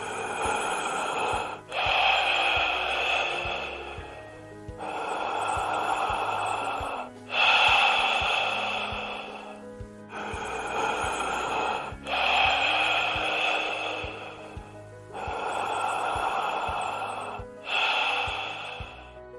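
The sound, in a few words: slow sleep breathing with pauses before deep inhalations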